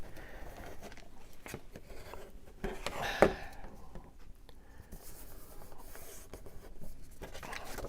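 Soft rubbing and scraping of scissors burnishing a paper fold, with one sharper scrape midway, close and quiet.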